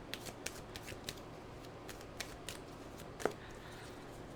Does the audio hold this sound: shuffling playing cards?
yes